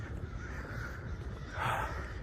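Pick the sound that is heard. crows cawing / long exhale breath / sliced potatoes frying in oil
crows cawing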